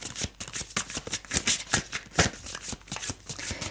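Oracle or tarot cards are shuffled by hand close up, a quick run of crisp riffling flutters and soft slaps repeating in an uneven rhythm, with no other sound.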